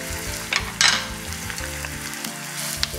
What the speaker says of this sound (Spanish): Empiezo por rehogar la cebolla. cuando esté un poquitín rehogada, poco, a fuego bajo, le pondré el puerro.